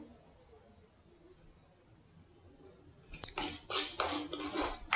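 Moong dal roasting in hot ghee in a kadhai for moong dal halwa, with a quiet stretch followed by a burst of scraping, clinking stirring sounds against the pan from about three seconds on.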